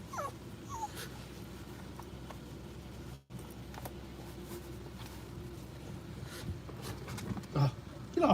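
Dog whimpering with faint high whines scattered over a low indoor hum, with people talking nearby and a louder shuffle near the end.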